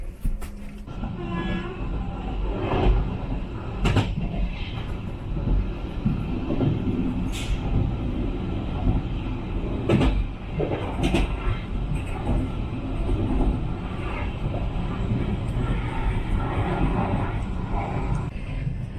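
A Georgian passenger train between Tbilisi and Batumi rumbles steadily on its rails from inside a carriage, with regular clacks and sharp knocks against a continuous low roar.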